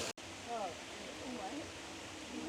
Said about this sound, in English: we are rewarded with a wonderful little waterfall here